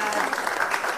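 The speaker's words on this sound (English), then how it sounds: "So give yourself a round of applause." A startup event audience applauds itself in a dense, continuous wash of clapping, close and fairly loud, heard briefly with no speech.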